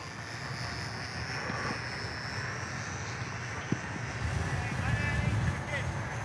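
Eachine Mini Cessna micro RC plane flies with a steady, thin electric propeller whine and a breezy outdoor hiss, its pitch wavering as it holds position against the wind, with no voice over it.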